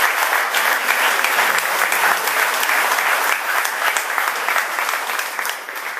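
A crowd at a Marsala football club event applauds steadily for several seconds, a dense, loud, continuous patter of many hands clapping that fades slightly at the end.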